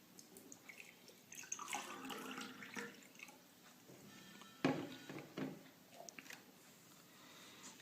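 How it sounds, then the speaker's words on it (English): Water is poured into an empty drinking glass in a quiet room, giving soft, faint splashing and trickling in a few uneven bursts. "As we pour water in the glass"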